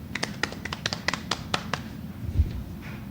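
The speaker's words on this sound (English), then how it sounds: "Round of applause for Elo going to the gym." A short round of applause from a small group on a casual podcast, with a quick burst of sparse, close hand claps that fades out within a couple of seconds.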